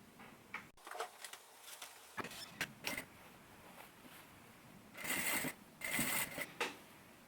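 A domestic sewing machine topstitching around a fabric tote bag lining and straps, heard in short bursts of fast, close mechanical whirring, with several light clicks and handling sounds between runs.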